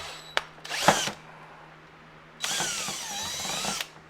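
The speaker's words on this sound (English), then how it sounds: "there is a dimple right here that's going to be drilled out." A power drill bores out a dimple in a plastic tailgate trim panel on a Jeep, with one short burst followed by a longer steady whine, close and fairly loud, with no talking.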